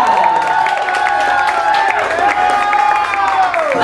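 A pageant crowd at a Diosa del Escenario 2014 coronation claps and cheers continuously, loud and dense, with wavering tones from music or voices running through it.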